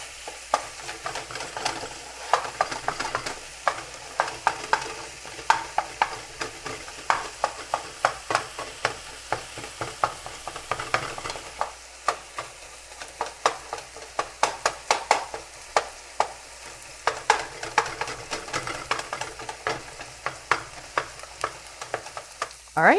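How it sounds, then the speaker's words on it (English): Ground meat sizzling and frying in a pan on medium-high heat while a utensil repeatedly stirs and breaks it into smaller pieces, giving a steady close sizzle under frequent sharp scraping and tapping strokes throughout. "you're just gonna keep breaking it up as it cooks into smaller pieces"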